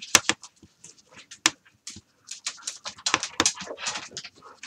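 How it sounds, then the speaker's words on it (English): Dogs in the background, producing irregular bursts of sharp barks, yips and breathy panting, with scattered clicks and soft noises between them, fairly close. "My dogs are going crazy in the background again."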